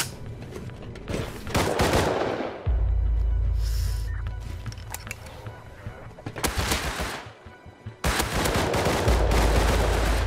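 Repeated heavy gunfire in the video game Rust during a small oil rig defense, several loud bursts and volleys separated by brief lulls with a low rumbling drone, voices talking beneath.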